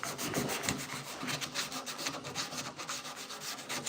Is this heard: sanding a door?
yes